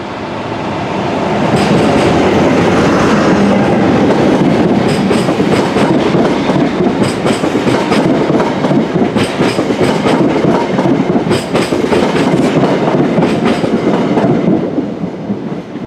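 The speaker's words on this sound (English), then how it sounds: "That Class 47 diesel locomotive was very nice to see indeed." A Class 47 diesel locomotive passes through Lapworth station on the Snow Hill Lines, with a loud, steady rumble and rhythmic wheel clatter over the rail joints that swell and hold for most of the pass.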